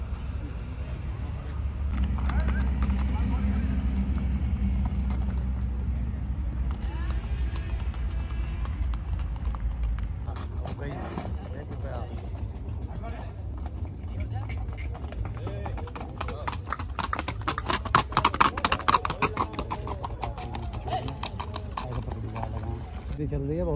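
A mare walks with hooves clip-clopping in a steady rhythm over a continuous low rumble outdoors, while people talk throughout.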